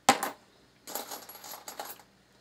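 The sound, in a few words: brass cartridge cases tossed onto a couch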